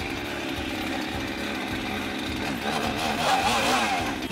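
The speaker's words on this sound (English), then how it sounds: "How do you start a chainsaw?" An older chainsaw with a recoil start, at a slab-wood firewood cutting setup, roars loudly and steadily throughout, swelling slightly toward the end.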